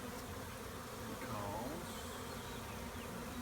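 Honeybees clustered in a bee beard give off a continuous, close, even buzz with no pauses.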